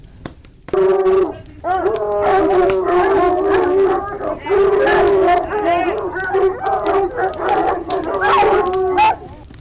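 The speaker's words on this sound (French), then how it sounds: "accompagné d'une nombreuse meute qui fait un vacarme infernal." A pack of dogs howling and baying together, loud and continuous, overlapping voices rising and falling throughout.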